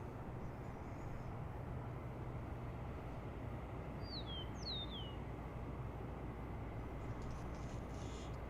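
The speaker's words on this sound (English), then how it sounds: "And the sound of grackles." Two or three short, sharp rising-and-falling grackle calls ring out at mid distance over a steady, faint roar of airport background noise, with no one talking.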